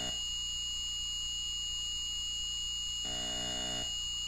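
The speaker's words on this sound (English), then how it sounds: "this buzzing sound is really getting fucking annoying" A continuous electronic buzz drones through a video game, steady and moderately loud with a high whining hum, briefly shifting to a lower pulsing tone near the end.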